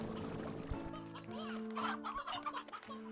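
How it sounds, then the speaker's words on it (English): Chickens in the video game Slime Rancher 2, several birds clucking and squawking close by in an overlapping, busy chorus over steady game music, with no talking. "This is where I put the other chickens"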